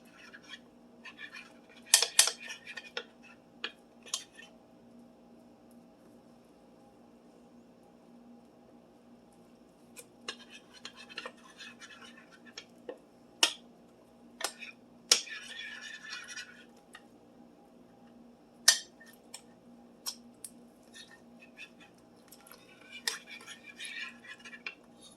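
A utensil scrapes and clinks in a bowl while Salisbury steak ingredients are mixed, the sounds coming as quiet scattered taps and scratchy bursts against a faint background.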